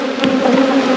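Honeybees buzz loudly and close during an early hive check, a dense, continuous droning hum filling a brief moment without any voices.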